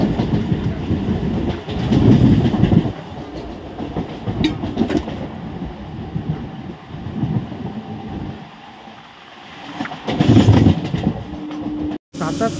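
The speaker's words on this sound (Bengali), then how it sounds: "এখন ট্রেন এসে পৌঁছেছে কাউরিয়া জংশনে" A Howrah to Midnapore local train rolls along with a continuous rumbling roar and rattling wheels, swelling and easing over time, with faint voices inside the carriage and a brief cutout near the end.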